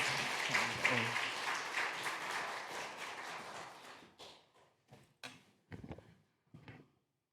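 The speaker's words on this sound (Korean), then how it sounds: "우리 목사님 오실 때 정말 큰 박수로 또 환영해 주시기 바랍니다." A church congregation claps to welcome their pastor, a dense burst of applause for about four seconds that thins out into a few scattered, separate claps.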